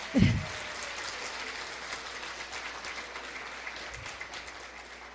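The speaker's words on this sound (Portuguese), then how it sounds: "Palmas para ele." Audience applause at a national embroidery seminar held at Unicamp, a steady broadband patter of many hands clapping at moderate level, lasting the full span after a brief louder thump at the start.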